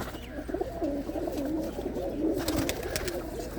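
Pigeons in a loft give soft, rolling coos in a close, continuous murmur, several birds overlapping, with faint rustling and a brief burst of flutter or scraping near the end.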